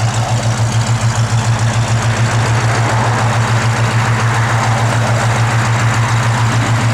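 A 1966 Ford Mustang idling up close, its loud low-pitched engine loping in a regular pulsing rhythm, with no one talking.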